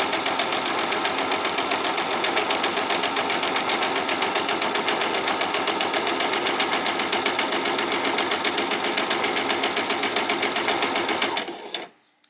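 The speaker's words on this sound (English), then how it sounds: "So I'm coming in at 1/4 inch. Back stitch. And I'm going to go right the way to the end." A sewing machine runs a quarter-inch seam on a headband, backstitching and then sewing to the end in one long, loud, steady burst of fast rhythmic needle clatter close by, before winding down and stopping.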